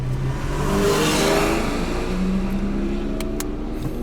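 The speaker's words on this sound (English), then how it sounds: "there's a GT4 coming from the other side" A Porsche GT4 sports car approaching from the other side and passing, its engine revving in a sustained, droning roar that holds steady and loud throughout.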